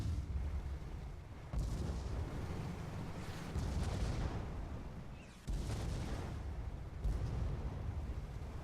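Long-range Gatling gun fire and explosions in a video game match, a continuous heavy rumbling barrage with several sudden louder bursts, distant and dense, without speech.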